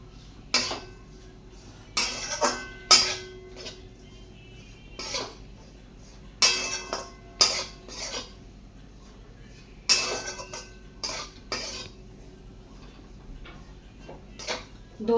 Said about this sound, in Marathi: दोन ते 3 मिनिटं परतून झाला आहे आपला रवा.